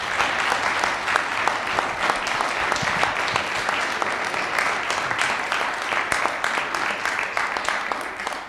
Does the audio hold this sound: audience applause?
yes